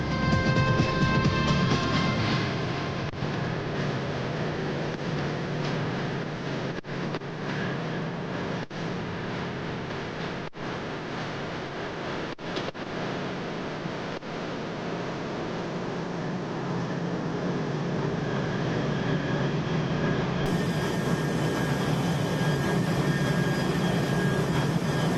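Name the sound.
jet aircraft moving on supercarrier flight deck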